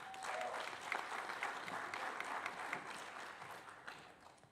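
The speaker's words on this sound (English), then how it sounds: "You can clap." An audience at a school board meeting applauds steadily for several seconds, a dense wash of clapping heard from a distance that slowly tapers off.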